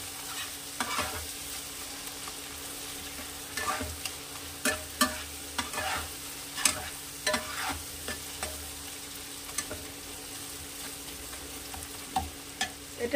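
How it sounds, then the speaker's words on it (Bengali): Ginger garlic paste sautés in a pan, with a soft steady sizzle and a series of scraping stirs and sharp spatula taps, close and fairly quiet, with no talk. "এটা একটু কষানো হবে। আদা রসুনটা ভাজা ভাজা হয়ে গেছে"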